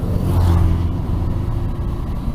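A Honda CBR500R motorcycle ridden at night through Udon Thani gives a brief swell of engine revving, then settles into a steady, rushing road and engine noise, with no talking.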